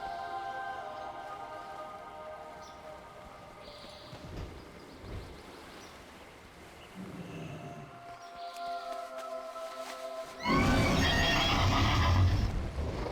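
A horse in World of Warcraft whinnies amid game music and tonal effects, with hoof clip-clops, and a louder, fuller burst of sound near the end.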